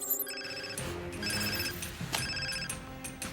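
Pre-recorded telephone bell ringtone played from a sound keychain, repeated bright electronic ringing bursts with short gaps, close and fairly loud, no voices.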